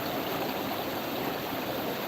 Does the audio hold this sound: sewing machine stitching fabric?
no